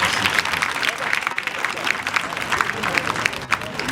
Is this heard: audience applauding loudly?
yes